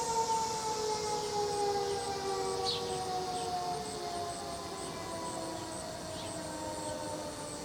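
Outdoor tornado warning siren sounding during a test, a long sustained wailing tone with slowly gliding pitch that fades gradually, fairly loud and steady with no speech.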